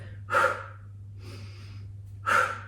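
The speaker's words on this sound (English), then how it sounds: "Nice noisy exhales." Two loud, forceful exhales during a yoga HIIT balance workout, one near the start and one near the end, separated by quieter breathing, with no talk.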